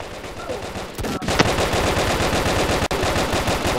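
Rapid automatic gunfire from the blocky online shooter Brick Force, a dense steady rattle of shots filling the whole stretch, loud and close, with one brief sharper burst near the start.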